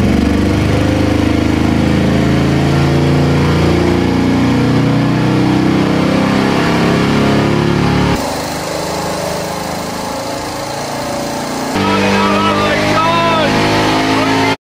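A car engine revs hard toward the redline at a damp track, a loud sustained buzzing roar that dips briefly before climbing again, with people talking excitedly over it.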